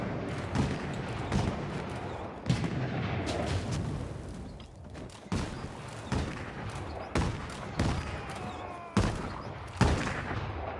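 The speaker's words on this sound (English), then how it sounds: "Ooh, gunfire." Video game gunfire sounds off in a rapid series of sharp shots and bursts, fairly quiet and distant, with irregular bangs spaced through the stretch.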